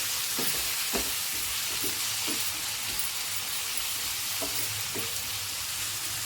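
Tomatoes frying and sizzling in a pan while being cooked soft for Andhra-style gongura pappu, a steady hiss with a few soft clinks and stirring scrapes, close and alone.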